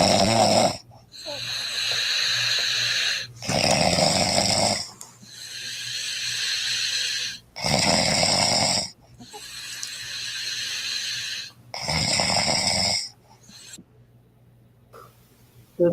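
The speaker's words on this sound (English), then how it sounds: "My beautiful wife snoring." A woman snores in a played-back recording, with loud rasping inhale snores repeating in a steady rhythm of about six long bursts and quiet gaps between them.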